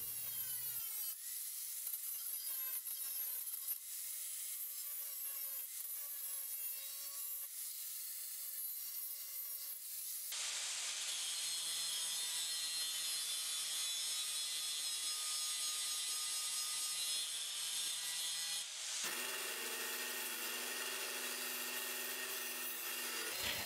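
An old chisel reshaped into a small woodturning side scraper is sharpened in long steady passes of continuous abrasive grinding, close and loud, with the pitch and texture shifting at two points as the work changes.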